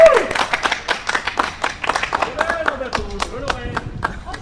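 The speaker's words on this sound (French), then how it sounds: "Et ben on va applaudir bien sûr ceux qui étaient avec nous." A small group claps and applauds together after a quiz boxing game, steady patter of hands over about four seconds while people talk and laugh over it.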